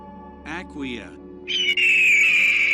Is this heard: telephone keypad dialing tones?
no